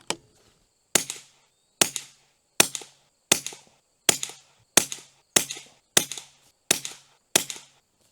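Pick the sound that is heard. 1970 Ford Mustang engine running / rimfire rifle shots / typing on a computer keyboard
rimfire rifle shots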